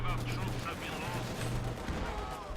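Incendiary attack in the World War II strategy game Company of Heroes 2 on the Baugnez Outskirts map: a dense, steady roar of gunfire and burning explosions runs through the whole clip, with voices talking over it.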